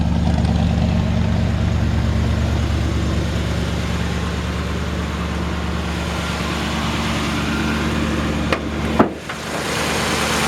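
A 1962 Ford Galaxie Sunliner's engine idles steadily at close range, a low even rumble running throughout, with a brief knock or bump near the end.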